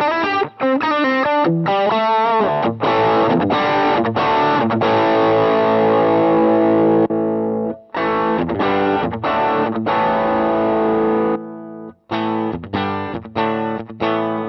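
Electric guitar through stacked overdrive pedals including a Blues Driver, giving a loud, distorted tone; choppy riffs and sustained chords with short stops and staccato hits.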